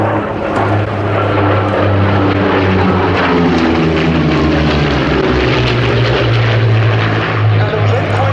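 A Yak-3 and a Yak-9, World War II piston-engine fighters, fly at the Duxford Battle of Britain Airshow 2019, their propeller engines roaring loud and continuous with shifting pitch as they pass, while a commentator talks over them.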